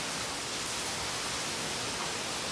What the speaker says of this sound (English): Rain of cats and dogs outside right now.